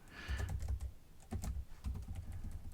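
Bursts of keyboard typing, quick clattering keystrokes in two or three runs with brief pauses, close and clear.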